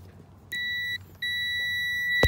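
Voltmeter set to continuity gives two steady electronic beeps, each about half a second, separated by a short gap, followed by a brief sharp click, close and clear over faint background noise.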